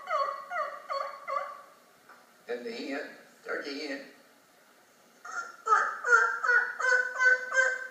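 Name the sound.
voice imitating turkey hen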